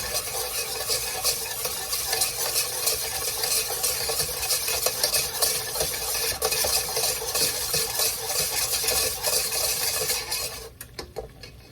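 Continuous scraping of a utensil against a pot while stirring a roux for mac and cheese, a busy rasping sound up close with faint sizzling underneath, no talking.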